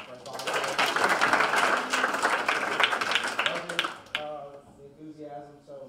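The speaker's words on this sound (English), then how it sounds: "round of applause for our first volunteer" Dense clapping from a student senate meeting audience, a sustained burst of applause that cuts off abruptly near the end, followed by someone starting to talk.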